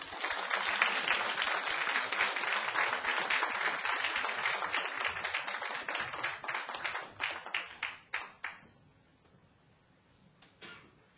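An indoor lecture audience gives a warm round of applause to welcome the head of a bakers' association as guest speaker, with dense, steady clapping that thins into scattered last claps and fades to quiet.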